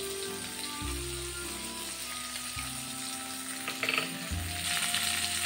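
Cumin paste sizzles softly in a pan while cooking moong dal with pointed gourd, a steady close frying hiss over a low humming tone.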